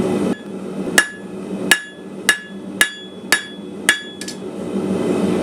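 A hammer flattening hot metal on an anvil while forging icicles: seven sharp ringing strikes at a steady, roughly half-second pace, close and loud with no talk.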